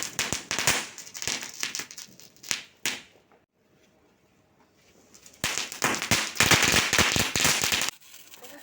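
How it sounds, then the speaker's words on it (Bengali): Firecrackers burst in rapid crackling volleys during a Diwali and Kali Puja night, loud and dense, with a quiet gap midway before another intense barrage of pops and crackles. "লেগে পড়েছি বাজি পোড়াতে।"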